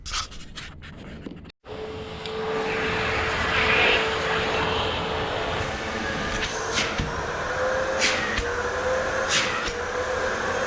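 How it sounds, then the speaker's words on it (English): A few clicks, then an unclogged vacuum cleaner runs steadily with a smooth, even motor hum and a clear mid-pitched whine, plus some faint scraping. "you can tell right off the bat if your vacuum cleaner is working properly"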